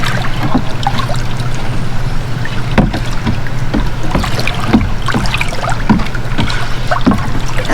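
Ice salt stirred into water in a container for tanning a deer hide: repeated sloshing, swirling water with soft splashy strokes at a steady rhythm, close and fairly loud over a low constant background hum.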